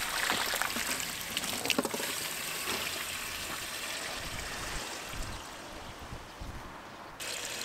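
Water trickling steadily into a self-refilling dog water bowl, a continuous close wash of flow with no talking.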